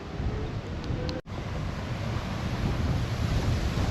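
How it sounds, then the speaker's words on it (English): Strong, blustery wind roars against the microphone on a cold day at a park, a dense continuous rush with one brief dropout, no voices. "It is so windy."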